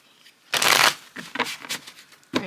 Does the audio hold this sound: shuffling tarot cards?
yes